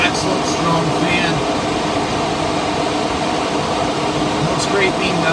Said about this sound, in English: there should be no sound to it except just the sound of the fan sucking it out